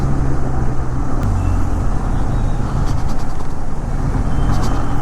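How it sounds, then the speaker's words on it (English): Benelli 502C motorcycle engine while riding, a loud, steady, close rumble under heavy wind rush, with a brief dip in engine tone midway. "I am enjoying the sound on this motorcycle."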